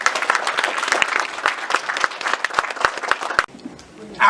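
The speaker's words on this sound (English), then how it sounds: "Round of applause." An audience at a Chanukah menorah celebration at Staten Island Borough Hall applauds loudly in a dense burst of clapping that stops abruptly, leaving quieter room noise.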